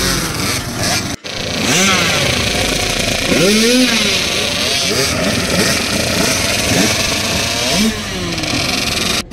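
Several kids' motocross bikes rev their engines at the start line of a race in India, throttles rising and falling in repeated overlapping sweeps, loud and close throughout with background voices mixed in.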